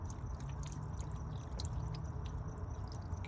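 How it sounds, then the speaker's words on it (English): Water poured over a blue, corroded negative terminal on a 2019-2021 Toyota RAV4 battery, a faint continuous trickle with light drips and splashes, no talking. "just go ahead and put some water over that just to dissolve it"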